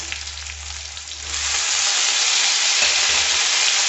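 Tomatoes hit onions frying in a pan for fish curry, the low bubbling swelling into a loud, close, sustained sizzle and hiss that continues to the end.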